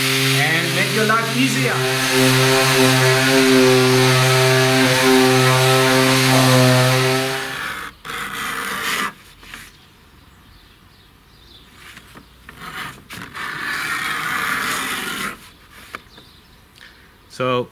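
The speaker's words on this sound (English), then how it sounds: "in the Age of Power tools, you could also use a sander." A power sander on wood whines loudly and steadily with a strong pitched drone for several seconds, then cuts off, leaving quieter speech and light handling noise.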